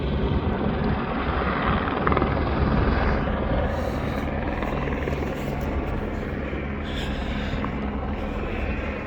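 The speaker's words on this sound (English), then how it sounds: "Lots of helicopter noise." Several helicopters drone steadily overhead above the Litlihrutur volcanic eruption trail, a loud continuous rotor thrum that persists throughout with no talking.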